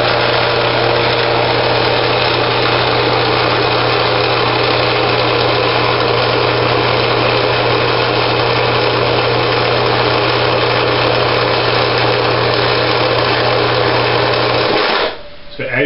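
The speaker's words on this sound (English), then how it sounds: "I'm going to turn on the 1 horsepower motor, and you'll be able to see all the lights come on" A 1 horsepower motor driving a 3,000 watt generator runs at a steady, loud, unbroken drone with a constant low hum for the whole stretch, then cuts off abruptly at the very end.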